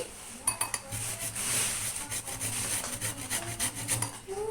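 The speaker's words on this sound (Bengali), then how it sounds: "এখন আমি কাটারটা দিয়ে পেয়ারাটা এভাবে গ্রেট করে নিব।" Guava being grated on a small hand grater, close rhythmic rasping strokes with light metallic scraping, repeated steadily and fairly quiet, without speech.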